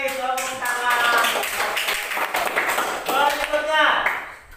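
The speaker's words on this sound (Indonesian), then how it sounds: "Tepuk tangan." Students in a classroom clap after a correct answer. Scattered, irregular claps sound through several seconds while voices talk over much of it.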